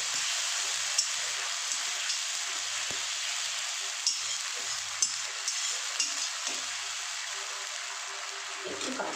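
Grated tomato fries in a hot pan while being stirred, a steady close sizzle running throughout with occasional scrapes and taps of the spoon against the pan.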